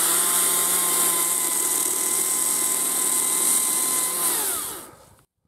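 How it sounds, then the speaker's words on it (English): A loud, continuous motor whine of an electric chainsaw cutting tree suckers runs steadily, then winds down and stops near the end. "just cutting them off with the electric chainsaw"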